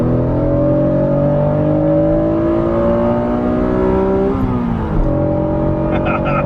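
An Acura NSX engine is revved all the way to redline while driving, a loud rising howl that climbs for several seconds, drops briefly at a shift, then picks up again, with faint voices near the end.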